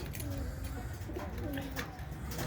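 Pigeons in a loft housing about ten or eleven pairs coo softly and steadily, a low murmuring chorus under faint background noise.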